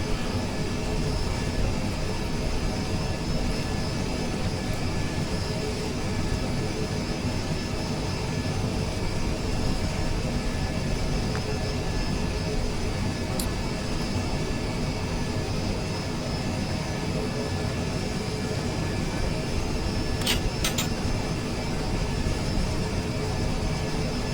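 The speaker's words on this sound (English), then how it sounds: "So we'll get taxied to the end of the runway here." An MD-11 jet taxiing in Microsoft Flight Simulator 2020 gives a steady, loud engine drone that holds evenly throughout, with a couple of faint brief clicks near the end.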